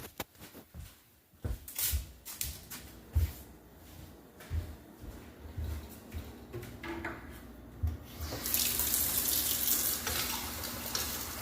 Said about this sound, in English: I drink faucet water because I don't want to buy any water.